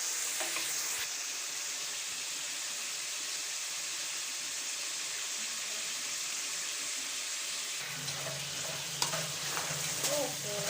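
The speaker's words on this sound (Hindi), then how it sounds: "चिकन को हमने 10 से 15 मिनट तक अच्छी तरह फ्राई करना है कि इसका कलर जो है वो चेंज हो जाए।" Chicken pieces frying in a pan for white chicken karahi, a steady close sizzle with occasional stirring, and a clatter of utensils near the end, no talking.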